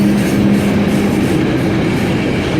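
A freight train heading to the Port of Koper rumbles past at close range, a loud, steady roar of rolling wagons with no voices.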